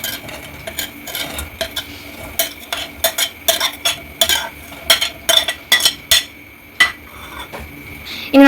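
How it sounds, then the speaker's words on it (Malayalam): Potato, carrot and soaked green peas are stirred with a metal spoon in a pressure cooker, giving a series of sharp clinks and scrapes against the pot at an uneven rhythm, close and clear. "ഇനി നമ്മൾ ഈ 3 കുക്കറിലേക്ക് ചേർത്ത് കൊടുക്കാനായിട്ട് പോവാണ്"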